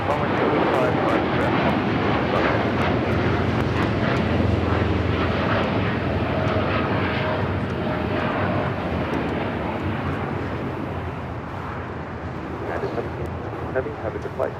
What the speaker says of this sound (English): That was the United Dreamliner heading to Newark